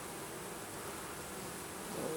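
A dense, continuous buzzing of many bees, steady and fairly close, with no voices.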